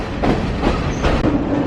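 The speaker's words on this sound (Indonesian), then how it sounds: "Keretanya udah jalan." Passenger train in Sri Lanka pulling away, with a loud, steady rumble of rolling wheels and rhythmic clacks on the rails heard close up from on board.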